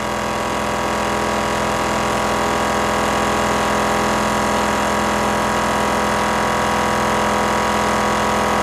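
Electric motor powered from a battery, spinning near 2500 rpm in a motor-to-generator conversion setup, giving a steady, loud, unbroken whine and hum with no change in pitch, no other sounds.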